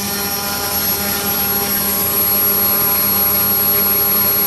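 A Super Chipmunk model airplane's electric motor runs continuously on a test, a loud steady high-pitched whine with a constant tone and no pauses.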